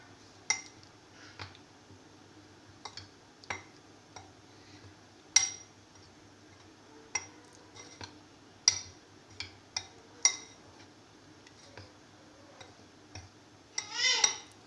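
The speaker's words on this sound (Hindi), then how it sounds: "ये बेकिंग पाउडर मैं मैदे में डाल रही हूँ, इसको अच्छी तरह मिक्स कर लूँगी" Baking powder being mixed into flour (maida) in a bowl: scattered light clinks and taps of a spoon against the bowl at an uneven rhythm, close and quiet, with a short scraping burst near the end.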